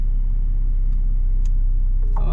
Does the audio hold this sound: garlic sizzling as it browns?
no